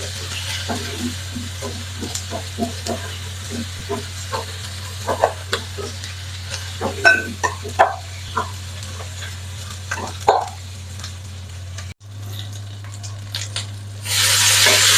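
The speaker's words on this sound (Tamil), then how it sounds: "வெங்காயத்தையும் சேர்த்து நல்லா கலந்து விட்டுக்கொள்வோம் அதோட உள்ளியையும் சேர்த்துக்கொள்ளுவோம்" Onion and garlic stirred and sautéed in a pan for an emperor fish curry, giving a steady sizzle with scattered scraping clicks from the spoon and a constant low hum underneath, with no talking.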